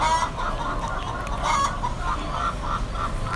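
Caged chickens cluck steadily at close range, a dense, continuous chorus of overlapping clucks with no talking.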